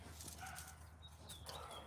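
A dog barks somewhere in a residential neighborhood, faint and distant under a steady background hum, with a few short yaps in a brief stretch.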